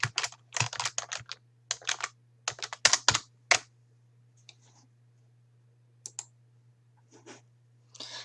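Fast bursts of computer keyboard typing, close and crisp, in a quiet room over a faint steady hum, followed by a few sparse key presses.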